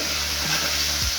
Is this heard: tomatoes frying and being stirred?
yes